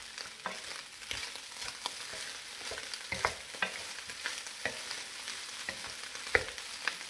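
Rice and butter are stir-fried in a pan for veggie fried rice, with a soft continuous sizzle broken by irregular scrapes and clinks of a utensil stirring, close and moderately quiet, with no talking.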